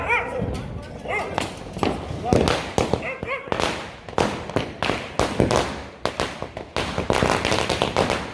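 Firecrackers bursting at night during Diwali celebrations, sharp repeated bangs in quick irregular succession, some close and loud, mixed with dogs barking and people talking throughout.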